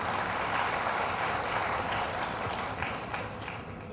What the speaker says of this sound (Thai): ขอเสียงปรบมือให้ทั้ง3ท่านด้วยครับ